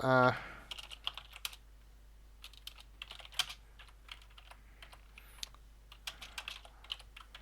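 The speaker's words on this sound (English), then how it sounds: "I'm just gonna type that." Keys clatter on a computer keyboard as a command is typed into the King's Quest II adventure game, irregular quick taps at close range with a low electrical hum beneath and no talking.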